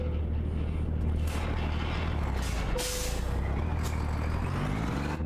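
Truck air brake hiss in American Truck Simulator, a steady rushing air release under a low idling diesel rumble with a brief tonal squeal near the middle while a tractor unit drops its trailers.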